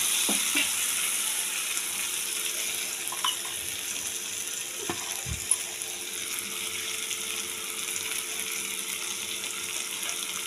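Fish and potatoes frying together in a pan with chili powder make a steady, close sizzle, with a few faint clinks of stirring scattered throughout.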